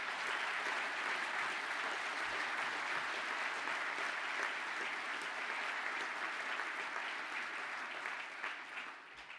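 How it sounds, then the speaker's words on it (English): Audience applause for two classes of manufacturing engineering apprentices at an award ceremony: a dense, steady wash of many hands clapping together, loud and sustained throughout, fading slightly near the end. "please stand up for a well-deserved round of applause"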